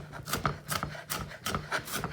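A knife dicing a green tomato on a cutting board, with about eight quick, evenly spaced chopping taps against the board, close and clear with no talking.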